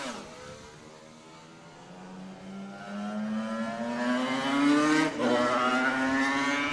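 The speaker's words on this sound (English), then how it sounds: "He rides the same RG500 Suzuki he rode to victory in the 1981 senior" A 1981 Suzuki RG500 racing motorcycle on a parade lap of a mountain road course rises in pitch through a long, close acceleration, drops briefly at a gear change, then climbs again.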